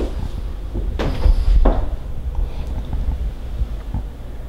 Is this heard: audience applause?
no